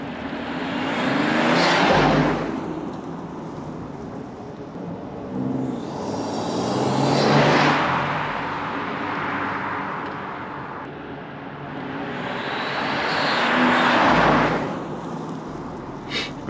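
A BMW 540i xDrive with a modified exhaust passes outside three times, each pass swelling from a distant rumble to a loud whoosh and fading away, with steady road noise in between.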